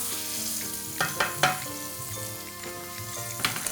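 Filet mignon sears in a very hot pan, a bright continuous sizzle broken by several sharp spatters and clinks of the meat being turned, over a faint background hum; no one speaks.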